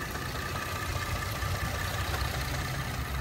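A 2017 Ford Explorer Sport with its 3.5 L EcoBoost twin-turbo engine idles in a steady, smooth low hum, close and constant, with no voices.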